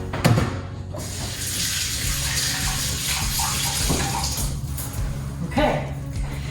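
Hands being washed under a running kitchen tap, with a steady close rush of water broken by a few louder splashes.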